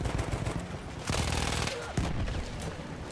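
Machine-gun fire in the video game Battlefield 1 crackles in dense rapid bursts, loud and close, with several sharp volleys across a few seconds.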